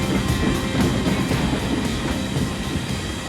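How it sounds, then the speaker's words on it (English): Iron ore freight train passing on a Norwegian railway, a loud, close, continuous rumble with rhythmic clattering of wheels on the rails, steady throughout and heard alone. "Just passing one of these iron ore trains."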